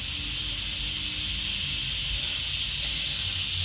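A pressure cooker vents steam in a steady, continuous hiss that stays loud and even throughout, with a faint low rumble underneath and no distinct whistle blasts.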